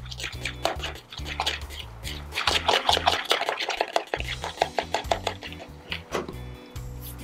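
Cream being stirred into carbonara pasta in a pan, with repeated clinks and scrapes of a utensil against the cookware in an uneven, busy rhythm, close and moderately loud with no talk.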